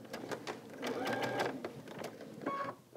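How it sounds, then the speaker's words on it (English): A sewing machine runs a short reverse stitch at the start of a quilt-as-you-go seam, giving a quiet rapid mechanical whirr in short bursts that pause and restart. "I'm starting with my leader and I'm going to do a little reverse stitch at the beginning"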